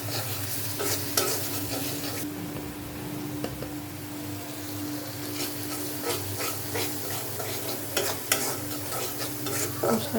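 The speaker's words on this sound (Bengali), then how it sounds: "মশলাটা একটু কষানো হোক" Ground chilli masala paste sizzles in a pan while a spatula stirs it in repeated scraping strokes, loud and close over a steady frying hiss and a low background hum.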